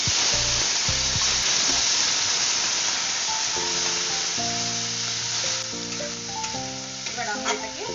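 A ground mustard paste with ginger and chilli fries loudly in a pan for a rohu fish dish, a dense continuous sizzle up close with a few stirring scrapes toward the end.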